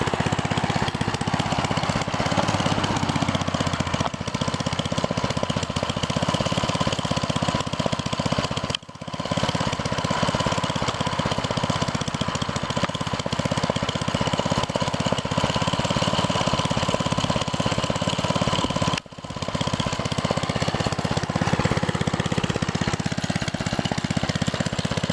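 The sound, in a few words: mini bike engine running at idle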